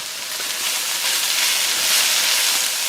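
Chopped onions sizzle in a frying pan for an easy chicken paprika, with a steady, dense hiss that runs loud and close throughout, holding nearly constant with no talk over it.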